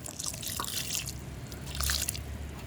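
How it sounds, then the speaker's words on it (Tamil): Homemade liquid fertilizer is poured onto a potted plant, a soft splashing trickle and dripping close by that runs steadily for a few seconds with no talking. "ஃபஸ்ட்டு இந்த செடிக்கு கொஞ்சம் ஊற்றி விட்டுருவோம்."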